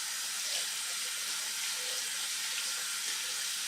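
Tap water runs steadily into a kitchen sink as an orange is rinsed, a continuous soft hiss and splash with no talking.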